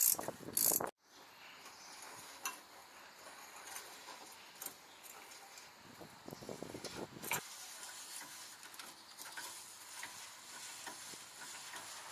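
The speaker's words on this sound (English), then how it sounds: "We're going to place the wrench on the nut itself and just remove the shackle bolt completely." Wrench ratcheting on the adjuster nut while removing the leaf spring shackle bolt on a Nissan Frontier with torsion bar suspension: a sharp metallic clack at the start, then steady close ratchet clicks and scraping mechanical noise throughout.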